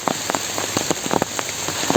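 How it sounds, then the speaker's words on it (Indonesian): Steady rain falls on a mountain hiking trail, a dense hiss of drops with scattered louder patters, close and continuous, with no voices. "Diguyur hujan, mantap."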